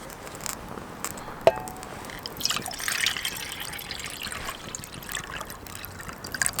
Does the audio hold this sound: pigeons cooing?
no